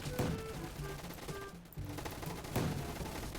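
Gunfire in the Roblox shooter Gunfight Arena, rapid bursts of shots crackling in quick succession with game music tones underneath, briefly dropping out before another loud burst near the end.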